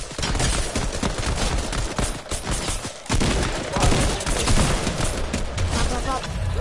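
Dense Fortnite gunfire rattles almost without pause, rapid overlapping shots and automatic bursts forming a loud, continuous barrage with a brief dip near the middle.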